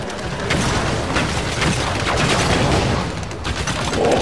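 Dense rapid gunfire and booming blasts from the Halo 5: Guardians video game, a loud continuous barrage of shots and explosive bursts with no pause, no talking.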